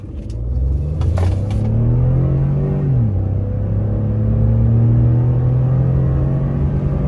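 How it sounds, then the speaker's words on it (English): A turbocharged pickup truck engine rumbles steadily and accelerates, its pitch climbing, dipping briefly at a shift, then holding a loud, close, continuous drone. "when you can hear those turbos just whistling"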